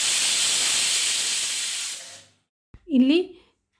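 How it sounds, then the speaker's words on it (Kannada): A pressure cooker cooking moong dal vents a loud, sustained steam hiss that fades out, followed by a brief shrill whistle-like toot. "2 ವಿಸಿಲ್ ಕೂಗಿಸ್ಕೋಬೇಕು."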